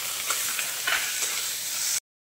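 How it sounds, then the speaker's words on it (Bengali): Finely chopped shrimp frying in a pan and being stirred, a short, close burst of steady sizzling with a few scraping stirs before it cuts off abruptly. "এবার দিয়ে দিলাম ছোট ছোট কুচি করে রাখা চিংড়ি মাছটা"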